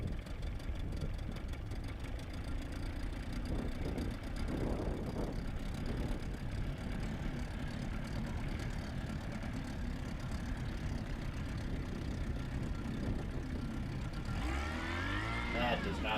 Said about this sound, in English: That is not how a boat motor is supposed to sound.